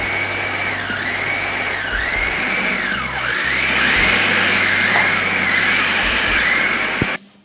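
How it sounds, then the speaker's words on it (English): A food processor chopping roasted mushrooms with a loud motor whine that rises and falls in short pulses, stopping abruptly with a clatter at the end, no talking. "So now I'm gonna go through a food processor and the magic's gonna happen. And we're gonna pulse, not smooth it,"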